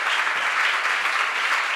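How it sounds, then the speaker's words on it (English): Audience applause at a conference's concluding address, a dense, steady wash of many hands clapping that fills the whole moment without a break. "Can we just give Dr. Suresh a loving round of applause?"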